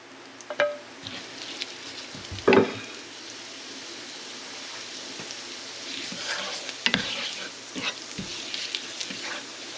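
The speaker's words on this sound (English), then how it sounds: "We're going to saute our aromatics first. So put in your ginger." Ginger and garlic sauté in a pan as aromatics for stir-fried glass noodles with shrimp and bok choy. There is a soft, steady sizzle with a few sharp clicks and knocks of utensils, nearby and without speech.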